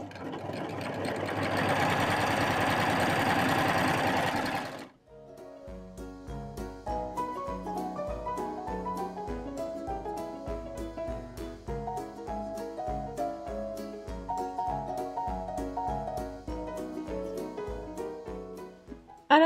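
An overlock sewing machine runs after a short noisy rush at the start, its knife trimming the frayed fabric edge in a steady, even stitching rhythm, close and alone.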